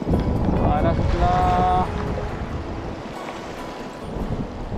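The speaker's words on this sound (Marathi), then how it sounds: "हे बघा आत्ता वारा सुटला आहे" Wind gusts across a fishing boat at sea off Jaigad as rain approaches, a steady loud roar buffeting close to the microphone throughout, with a brief tonal wail early on.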